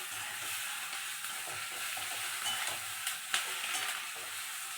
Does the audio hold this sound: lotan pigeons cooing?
no